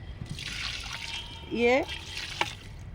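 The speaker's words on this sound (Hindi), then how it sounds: "धीरे धीरे से थोड़ा सा हम चारों तरफ से इसमें देखिए पानी डाले दे रहे हैं" Water poured slowly around the base of a potted eggplant plant, a soft trickle with a few brief drips and splashes, heard close up.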